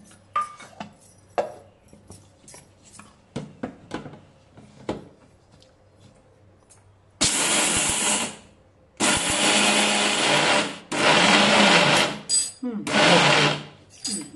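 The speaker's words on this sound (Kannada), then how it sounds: "ಮೊದಲ ಶೇಂಗಾದ ಬೀಜ ಮಿಕ್ಸಿ ಮಾಡ್ಕೊಳ್ಳೋದು" Peanuts being ground in a mixer grinder: loud whirring bursts switched on and off several times, after a stretch of clicks and handling noises, with someone talking at times.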